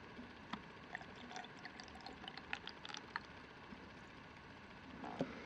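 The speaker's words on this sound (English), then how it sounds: "from the gallon here, I'll just pour some in." Water poured from a gallon jug into a Rowenta DR8050 X-Cel garment steamer, a faint steady trickle with small splashes and clicks throughout.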